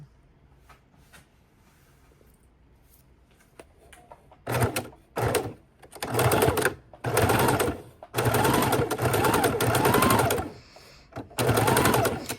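A sewing machine stitches fabric around the corner of a baking dish cover in short bursts, starting and stopping repeatedly with slow careful runs, loud and close after quiet handling at the start.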